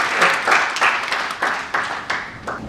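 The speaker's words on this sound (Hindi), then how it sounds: "इसके लिए जोरदार तालियां सभी लोगों के लिए" Seminar audience at an income-planning talk clapping in a slow, rhythmic unison beat, about eight distinct loud group claps spaced roughly a third of a second apart.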